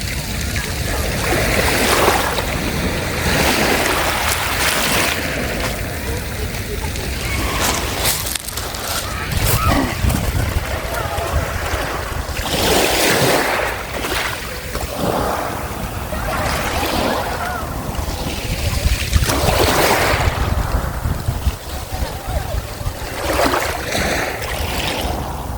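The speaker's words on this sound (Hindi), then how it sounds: "ये जो पेबल्स की आवाज़ आ रही है, ये आवाज़ जो आ रही है पेबल्स की," Pebbles rolling and dragging in breaking waves on Dover Beach below the White Cliffs, a continuous rushing surf with recurring swells of grinding shingle, close and steady, with faint talk underneath.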